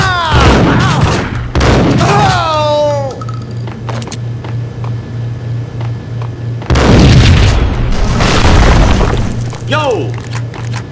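Gunfire in the PS5 game Evil West, heavy booming shots and blasts mixed with loud combat noise, with in-game voices shouting over the action.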